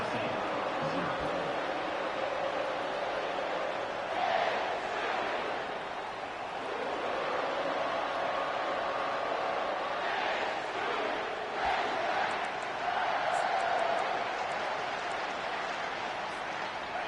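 Stadium crowd at an Arkansas college football game against Tennessee, a dense, steady roar of thousands of fans that swells in waves of cheering, with a commentator's voice over it.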